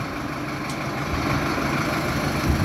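A Solis 75 tractor, a 75-horsepower model with a cab and Common Rail fuel system, idles with a steady low diesel rumble that stays even and fairly loud throughout, with no talk over it.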